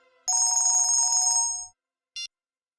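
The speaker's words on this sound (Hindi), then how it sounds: "आप तो मोबाइल की रिंगटोन निकाल रहे हैं" A bright electronic mobile phone ringtone trills for over a second, then stops; a short electronic beep follows after a pause.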